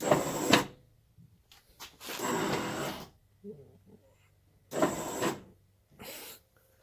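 Electric headlight motors on an Acura NSX whirring as the pop-up covers raise and lower, three short mechanical bursts with pauses between them, fairly close and with no talking.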